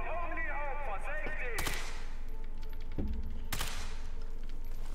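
Sniper rifle shots in Sniper Elite 5 crack out at a stone eagle, two sharp, loud blasts about two seconds apart over game ambience, with a whooshing sweep before the first.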